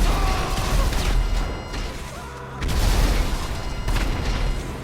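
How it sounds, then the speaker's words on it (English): Rocket explosions in GTA Online during an aggressive Diamond Casino Heist mission, rendered as dense, booming game blasts and crashes that fill the whole stretch, with a brief dip in the middle before the loud rumbling returns. "Take everybody out here with the rockets"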